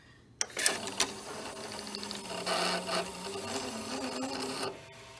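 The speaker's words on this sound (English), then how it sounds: "Then I'll press play and you'll see some motors in action." A Toshiba M-2200 VCR with faulty video heads whirs and rasps as its motors spin up after a couple of sharp mechanical clicks, then runs steadily for a few seconds before cutting off.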